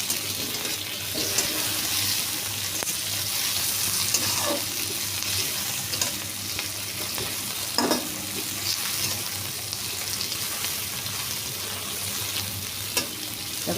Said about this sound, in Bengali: এবার আমি টমেটো কুচিগুলো দিয়ে দিচ্ছি।